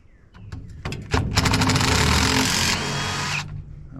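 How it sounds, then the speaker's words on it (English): A power drill whirs up after a few clicks, running in a steady high-pitched buzz for about two seconds before winding down. "I can do this with a pair of pliers and a drill"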